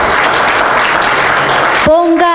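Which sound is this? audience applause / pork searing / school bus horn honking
audience applause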